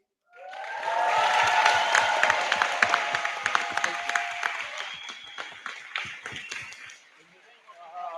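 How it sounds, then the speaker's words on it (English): Audience applause fills a closing session of a conference, a dense wash of many hands clapping that starts abruptly, holds steady, then thins toward the end. "please, with the biggest applause, show Pavel Schultz what an awesome job he made."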